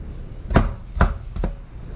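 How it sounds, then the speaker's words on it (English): Three heavy knife chops thud onto a cutting board as food is cut into small pieces for venison burgers, spaced evenly about half a second apart, close and fairly loud. "So we're just going to cut it up into small pieces"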